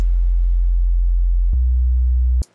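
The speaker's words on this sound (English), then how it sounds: "it's a very deep sine wave tone." A very deep, steady sine tone from Ableton Live's Operator synthesizer holds, shifts slightly in pitch midway, then cuts off abruptly with a brief click.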